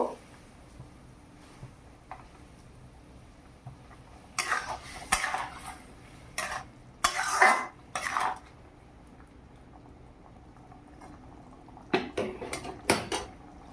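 Giant taro (maan kochu) pieces stirred into a bubbling curry in a pot, with intermittent metallic clinks and scrapes of a spoon against the pot coming in short bursts over a quiet kitchen background.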